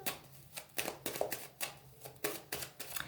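A deck of oracle cards is cut and shuffled by hand, giving a run of quick, soft riffling flutters in an even rhythm, close and fairly quiet, with no talking.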